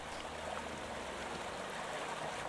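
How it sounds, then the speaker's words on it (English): Loud, steady rushing water flows in My Lovely Empress, a continuous broadband wash with no breaks or voices, filling the whole stretch evenly. "My, the water is so loud."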